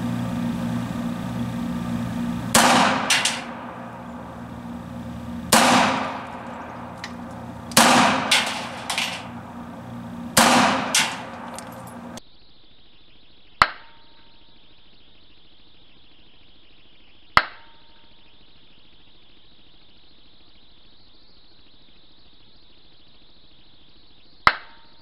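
Gunshots from an S&W Shield 380 EZ pistol at a range, several sharp close reports with echo in the first half, then three isolated shots spaced several seconds apart over quiet.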